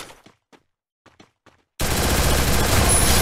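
Gunfire in the Free Fire Max battle royale game erupts suddenly after a stretch of near silence with faint voices, a loud, dense burst of rapid automatic shots running continuously to the end.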